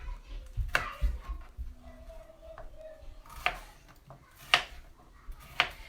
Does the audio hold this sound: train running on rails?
no